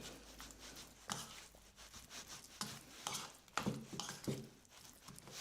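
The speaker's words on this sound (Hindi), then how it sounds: "पहले इसको अच्छे से मिक्स कर लेंगे" Cauliflower and peas sabzi being stirred and mixed in a pan, faint scraping and soft clattering strokes at an irregular pace, close by and quiet, with a light sizzle underneath.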